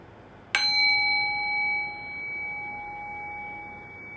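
A meditation bell struck once, a sharp metallic onset followed by a long, clear ringing tone that slowly decays over several seconds in a quiet room.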